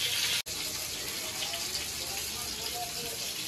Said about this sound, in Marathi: आता मी ताटात पाणी टाकायचं.